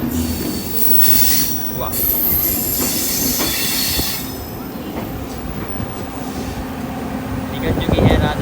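The Dehradun Janshatabdi Express runs on rails after leaving New Delhi, with a loud continuous rumble and shrill wheel squeal from close by. A voice briefly exclaims over the noise.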